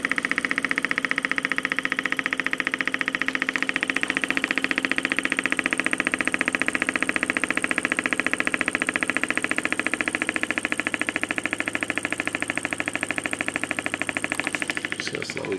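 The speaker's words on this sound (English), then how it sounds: "You can hear the ringing from the coils, actually. It's kind of a little whistle sound." A Lynx Joule motor generator runs steadily, its coils ringing with a high, thin whistle over a constant mechanical hum that carries on unbroken for the whole stretch, fading slightly at the end.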